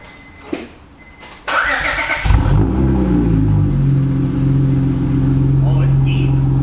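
A Honda Accord engine fitted with a Megan Racing test pipe cranks and catches on its first start, then settles into a loud, deep, steady idle nearby, after a couple of brief clunks.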